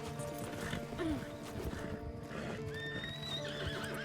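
A horse in the RedM western game whinnies and clip-clops close by, with hoofbeats running steadily under a busy background of game ambience.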